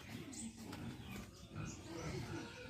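A piglet grunts on a country farm, the rough snorts blending into a noisy, close outdoor background.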